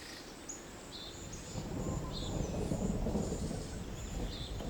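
Low, rolling thunder rumbles and swells in the distance, with birds chirping faintly above it.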